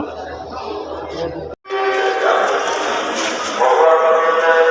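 A Mahua commuter train pulls away from Kamalapur railway station in Dhaka after a brief break in sound, a loud, close rumble of wheels with a steady tonal whine riding on top.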